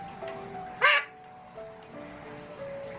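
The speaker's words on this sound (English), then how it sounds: "What a beautiful bird." A pet magpie gives one loud, harsh call near the start, close by, with faint background sounds and no talking over it.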